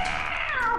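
A cat meows in a co-op video game, one drawn-out, falling cry that holds steady throughout the short moment.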